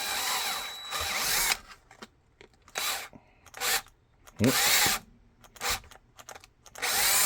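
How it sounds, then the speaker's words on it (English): Power drill boring a 1/4 inch hole for an MRD, several loud whirring bursts of a second or so each separated by quiet gaps, very close. "now let's get this drilled"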